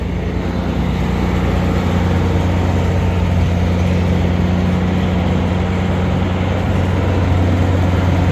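A service truck engine runs steadily right beside its exhaust, a loud, constant low rumble with a droning hum that never lets up and has no talking over it.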